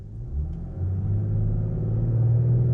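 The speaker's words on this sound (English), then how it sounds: "put my foot on the gas a little bit, let the turbo spill up" The inline-six engine of a 2020 BMW X5 idles in drive and then builds up, a low close rumble that steps up in pitch and grows steadily louder as the turbo spools.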